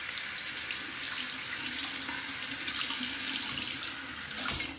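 Tap water runs steadily into a sink while a Muhle R41 safety razor is rinsed, a continuous close splashing hiss with no talk, easing slightly near the end.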